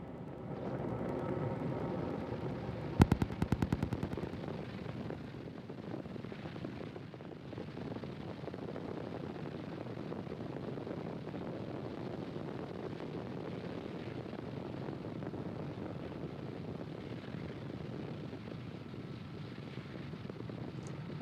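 A SpaceX Falcon 9 rocket carrying Starlink satellites roars steadily after liftoff from the launch complex, a continuous broad rumble heard from a distance, with a brief sharp crackling burst early on.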